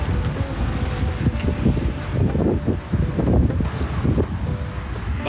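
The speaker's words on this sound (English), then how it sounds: "Wow, it's windy." Gusty wind buffeting a microphone outdoors beside a camper van on a rainy day near Tarifa, Spain, loud and rough in irregular rushes.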